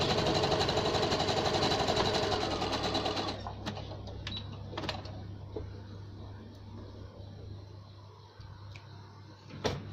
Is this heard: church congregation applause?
no